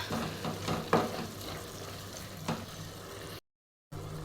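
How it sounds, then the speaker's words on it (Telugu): A spoon stirring a ridge gourd and dried prawn curry in a pan, heard as a soft, continuous sizzle with occasional scraping clicks, fairly quiet, with a brief silent gap near the end and no speech. "ఇప్పుడు దీన్ని కూడా మనం చక్కగా మిక్స్ చేసుకుందాం"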